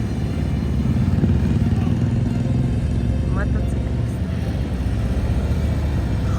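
Motorcycles ride around a large parking lot at a biker gathering, a continuous mid-range engine drone at moderate distance with brief clatter, while people talk over it.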